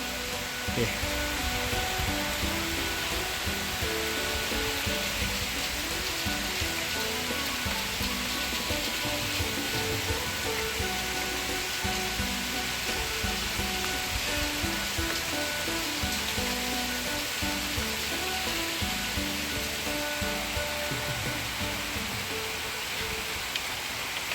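Steady rain falling on a rural road in southern Laos, a dense continuous hiss that stays even throughout with no pauses.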